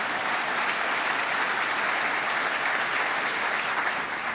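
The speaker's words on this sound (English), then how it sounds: "Give him a round of applause" A conference audience applauding a lieutenant governor at a regional economic development event, a full, steady roar of many hands clapping that holds at constant loudness from start to finish.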